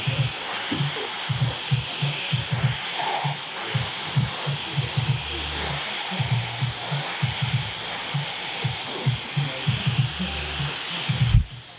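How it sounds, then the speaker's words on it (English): A hair dryer blows a steady broadband hiss close by while drying a medium-length beard during a barbershop trim, with soft rhythmic thumping underneath as the airflow moves through the hair. "I'm just going to run through it with the hair dryer"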